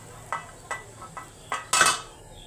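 Dal (lentils) being tempered in a pot on a home stove: five separate clinks and scrapes of a metal spoon against the pan, fairly close, over a quiet background with no talking.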